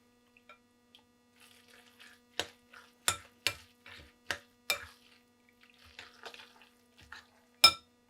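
Mango sticky rice mixture being stirred in a pot, giving a series of sharp clinks and scrapes of utensil against the pot at an irregular rhythm over a steady low hum.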